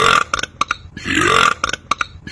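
A loud, drawn-out human burp right up close, wet and croaky, set among a few short vocal noises and clicks before and after.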